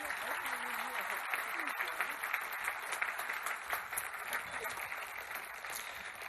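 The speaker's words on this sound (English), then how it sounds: "one more round of applause for our young people?" A crowd at a school remembrance ceremony applauds continuously, a dense steady wash of clapping from many hands that holds at an even level throughout.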